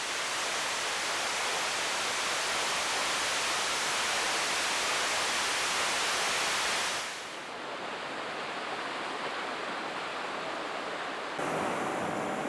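Delicate waterfalls spill into a cliff-lined inlet near a river mouth, heard as a loud, steady wash of broadband rushing that drops slightly in level partway through and then rises again.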